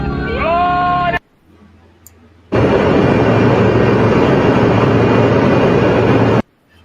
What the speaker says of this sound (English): This is from an airplane.